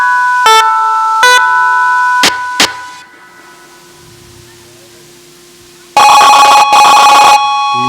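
An old telephone rings in loud, repeated bursts during a Hindi nautanki folk theatre performance, with short rings early on, a quiet pause, then a longer sustained ringing near the end.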